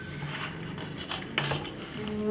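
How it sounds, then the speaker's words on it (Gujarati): Metal scraping and clinking as a knife cuts ragi flour dhokla in a metal pan, a few quick knife strokes against the metal, close and moderately loud. "ચાકુ ફેરવી લેવાનું થોડુંક"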